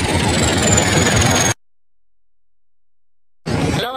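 A Swaraj tractor engine runs alongside a Thar. A steady mid-pitched engine drone plays for about a second and a half, drops to silence, then resumes briefly.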